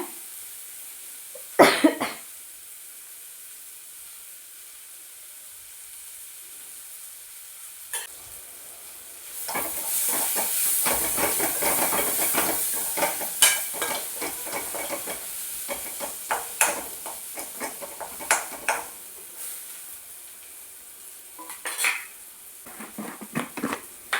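Spinach stems being stirred and sautéed in a pan, with a soft background sizzle broken by scraping stirs and clatter that build into a busy middle stretch, then trail off into scattered light stirs.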